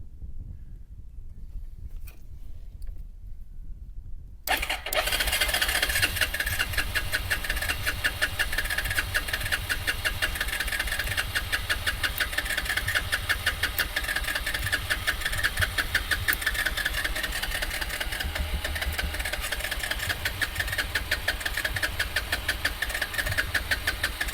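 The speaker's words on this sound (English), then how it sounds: "we cranked on that for a long time" Car engine being cranked by a YESPER YJS40 jump starter with no battery in the car, a loud, continuous rapid rhythmic cranking that starts abruptly after a few seconds of quiet and keeps going steadily for about twenty seconds.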